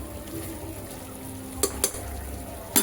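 Chicken sautéing in yogurt in a pressure cooker for yakhni pulao, a low steady sizzle with a few sharp metallic clinks of the stirring spoon near the end.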